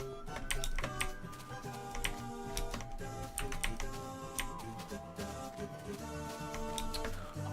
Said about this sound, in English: my keyboard's very loud